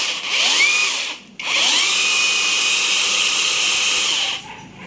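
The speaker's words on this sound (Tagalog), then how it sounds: "Chainsaw!" A small portable chainsaw revs up loudly, drops out briefly, then spins back up to a steady high-pitched whine before cutting off, close to the listener with no talking.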